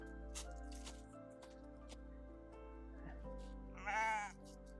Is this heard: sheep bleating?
yes